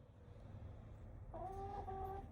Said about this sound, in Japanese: 鶏がいました。